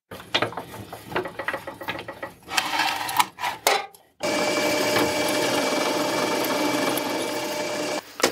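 A drill press bores a 2.5 mm hole in a new counterweight part in a workshop, first with short, uneven mechanical bursts and then a steady, loud whir of drilling that runs without a break for about four seconds.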